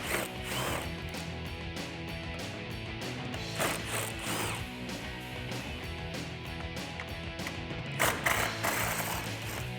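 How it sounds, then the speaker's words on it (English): A hand ratchet with a 10mm socket on an extension removes bolts beneath a black headlight bezel on a 2015-2017 Ford F150, clicking in steady repeated runs of close, busy pawl ticks for nearly ten seconds without speech. "grab a 10mm socket. I'm gonna use an extension to make life just a little easier here."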